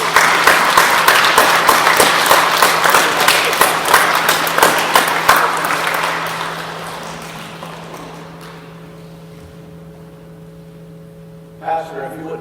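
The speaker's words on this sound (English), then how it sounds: "Let's give them a round of applause." Audience applause after a 5th grade performance, loud dense clapping for several seconds that slowly fades toward silence over steady mains hum, then a brief bump of noise at the end.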